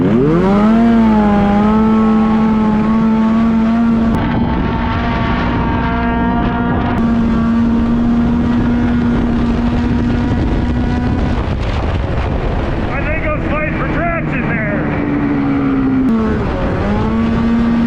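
A Honda Pilot FL400r and a Polaris Ace 900 off-road vehicle race, loud engines roaring at steady high revs with a brief dip and rev change near the end, wind buffeting the microphone throughout.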